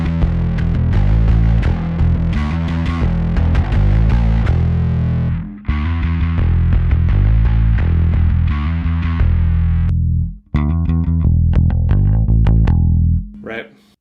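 A bass guitar played through a fuzz pedal produces thick, saturated, buzzing notes in a loud riff that breaks off twice before trailing away.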